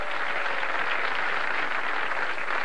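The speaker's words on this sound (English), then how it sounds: "Bowling spectators, they'll applaud just about anything" Spectators at a 1989 PBA bowling match applaud in a steady, even wash of clapping that fills the whole moment, with no talk over it.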